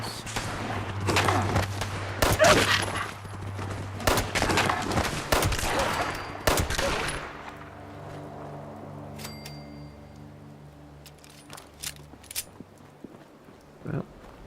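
Video game gunfire in Fallout 76: a dense run of sharp, loud shots over roughly seven seconds, then quieter scattered pops and a faint tonal backdrop.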